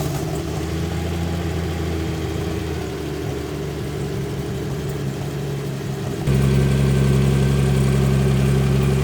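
A Singer-built classic Porsche sports car engine idles with a steady, deep rumble, then steps up abruptly to a louder, fuller idle partway through.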